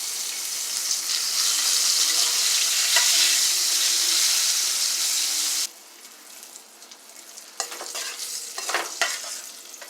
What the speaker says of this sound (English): you want to let this fry